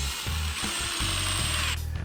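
A power drill drives screws through a window flange during a window installation, in short bursts of close, whirring motor noise with brief pauses between them and no talk.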